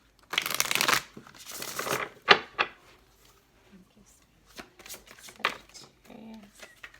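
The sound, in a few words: shuffling a deck of cards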